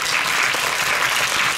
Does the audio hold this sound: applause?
yes